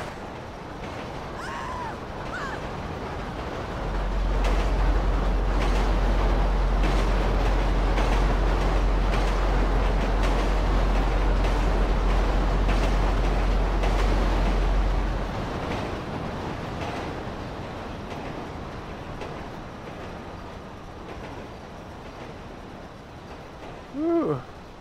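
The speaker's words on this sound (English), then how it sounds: "Fucking train coming." Train rolling past on railway tracks in GTA V with the LSPDFR police mod, a steady heavy rumble that swells loud for several seconds and then fades, with brief squeals at the end.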